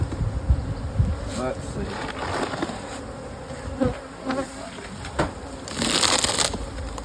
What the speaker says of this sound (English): Reasonable population of bees up here